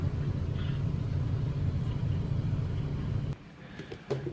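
A new car's engine idles close by with a steady low rumble and hum, then cuts off abruptly near the end, leaving a few faint knocks.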